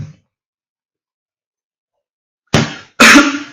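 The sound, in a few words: cough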